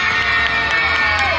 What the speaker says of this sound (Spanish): Ahora, aplauso para ella.